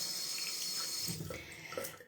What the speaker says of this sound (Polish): Teraz jeszcze przymyję sobie buźkę czystą wodą.